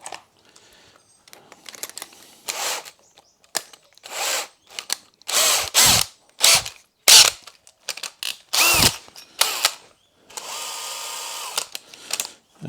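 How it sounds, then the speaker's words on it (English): A power drill bores holes in wood while building a router table split fence, heard as repeated loud bursts of whining drilling separated by pauses, with a longer run near the end. "Let's drill a couple of holes."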